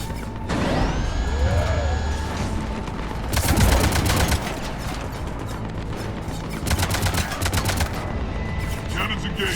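Cannons in the video game Mass Effect 3 fire in rapid mechanical bursts, two long loud volleys over a dense battle din with sweeping whines and tones.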